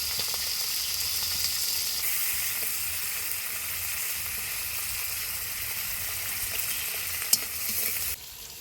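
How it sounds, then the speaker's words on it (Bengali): Chopped onion and green chillies fry in hot catla fish oil, a loud, steady sizzle and crackle that runs unbroken and then cuts off near the end. "তেলটা একটু হালকা ভেজে নিয়ে কেটে রাখা পেঁয়াজ কুচিটা দিয়ে দিব কেটে রাখা কাঁচা লঙ্কাটা দিয়ে দিব"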